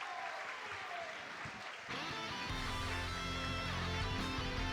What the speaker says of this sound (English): You hear the crowd getting happy for Yipes